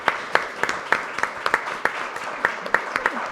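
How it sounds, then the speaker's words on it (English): Sparse clapping from a small audience at the close of a finance summit panel on AI, individual distinct claps spaced unevenly over a murmuring room. "How about one last final applause for John and Anushka on this?"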